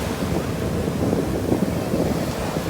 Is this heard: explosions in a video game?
no